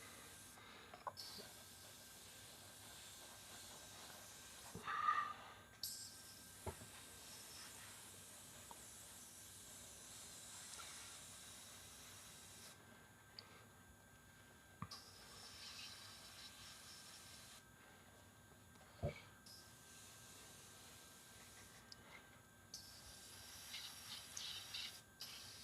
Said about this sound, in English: The cool thing about a double action airbrush is you can just push in,